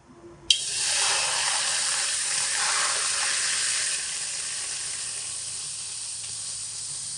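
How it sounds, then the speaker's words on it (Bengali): Frozen, partly thawed sour yogurt hits a hot kadai with a sudden loud sizzle that settles into a steady hiss and then gradually softens. "এই অবস্থাতে গরম কড়াইতে আমি দিয়ে দেব টক দইটা"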